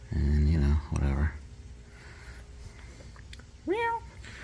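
House cat meowing indoors during a bed repair, with people talking nearby; two short meows early under the voices, then a rising meow near the end.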